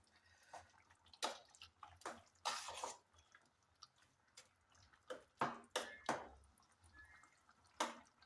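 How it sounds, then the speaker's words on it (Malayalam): Water is added to sambar in a cooking pot, with quiet, close splashes and drips in irregular bursts against a near-silent background. "കുറച്ച് വെള്ളം കൂടെ നമ്മൾ ഒഴിച്ച് കൊടുക്കണം തോന്നുന്നു."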